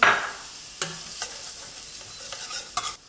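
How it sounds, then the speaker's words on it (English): Onions fry in hot neutral oil for a Sri Lankan cashew curry, a steady close sizzle with a spoon scraping and stirring through them every so often, no voices. "I've got some neutral oil here, which is heating through, and the first thing we're going to do is add our onions."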